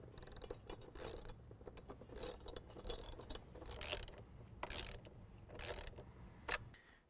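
A 10mm socket on a ratchet wrench tightens nuts on a cold air intake for a 2017 Ford F-250 Powerstroke, making bursts of fast clicking pawl ratchets between short pauses, close and alone.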